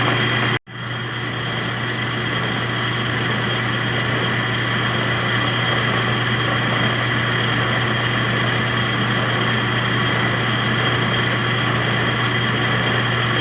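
A drill bit cuts steadily into a metal part of an antique Corley sawmill under restoration, a continuous whirring drone with a strong low hum that runs unbroken after a brief gap near the start, with no talking.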